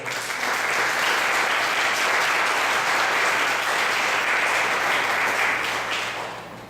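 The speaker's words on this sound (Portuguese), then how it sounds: "Vamos dar uma salva de palmas para você." A large church audience claps and applauds continuously for several seconds, loud and full, fading off at the end.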